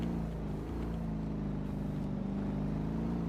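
An old, battered Land Rover's engine drones steadily in the game DayZ, a continuous low rumble with a constant tone and no talk over it.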